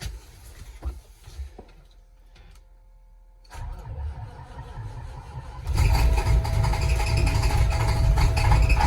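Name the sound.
old farm vehicle engine starting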